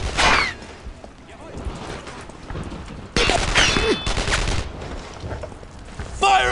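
Gunfire crackles in the Brothers in Arms World War II shooter set in St. Sauveur, France, 1944: rapid bursts and sharp cracks come in two loud volleys with debris and swishes between, mixed with shouted voices.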